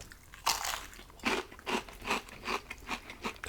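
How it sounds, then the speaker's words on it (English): Crispy, crunchy Popeyes fried chicken bitten and chewed close up, with a loud first crunch followed by a steady rhythm of about six crackling chews, no talking. "That's crispy, crunchy chicken."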